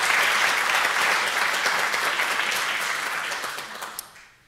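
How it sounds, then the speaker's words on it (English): Audience applause at an alumni awards and recognition celebration, sustained steady clapping from a large crowd that holds for several seconds, then tapers off and fades near the end. "Please give them a round of applause."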